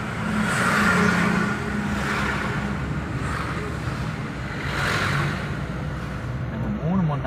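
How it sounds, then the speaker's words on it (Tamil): A vehicle drives along a forest hill road through the Thimbam–Sathyamangalam forest, its engine a steady, fairly loud rumble with wind noise that swells and eases over the seconds. "இந்த ஹில்ஸில் வண்டி ஓடிட்டு இருக்கிறோம்."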